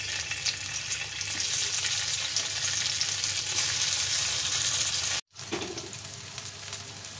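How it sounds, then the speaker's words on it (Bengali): Vadas frying in oil in a karai, a loud, close, steady hiss of bubbling oil with light stirring, cut off by a brief silent gap before the sizzle resumes. "এবার বড়াগুলো ভেজে নেব।"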